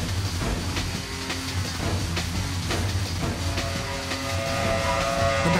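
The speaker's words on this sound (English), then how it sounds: "There's an out-of-control train speeding down the expressway, heading for Sunset Boulevard." A cartoon out-of-control train speeds down an expressway with a steady rumbling clatter, hiss and rhythmic clicks, loud and continuous throughout with no talking.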